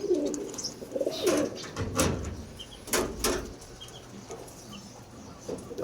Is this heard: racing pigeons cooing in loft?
yes